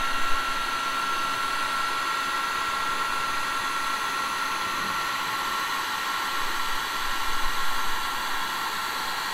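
Heat gun blowing hot air onto a Mercedes W203 headlight lens during a projector retrofit, a steady, close hiss with a whining fan hum that holds evenly throughout, no talking.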